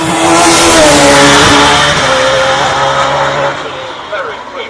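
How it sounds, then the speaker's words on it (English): A V8 hillclimb race car launches and pulls hard up the course at Shelsley Walsh in the British Hillclimb Championship, its loud engine rising through the gears and then fading as it draws away, with commentary running over it. "Accelerating away now, though. Letting the V8 do the work."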